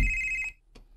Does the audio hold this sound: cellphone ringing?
yes